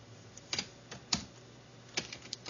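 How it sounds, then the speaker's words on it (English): Keys on a computer keyboard are mashed during a 3D modeling session: scattered, irregular clacks and taps of varying loudness over quiet room hiss, close up with no talking. "I'm just mashing the keyboard up here"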